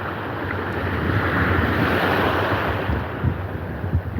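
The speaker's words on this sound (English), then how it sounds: "Water a little choppy though" Choppy open water with waves sloshing and breaking steadily close by, mixed with gusting wind buffeting the microphone, a continuous dense wash of surf noise with no talking.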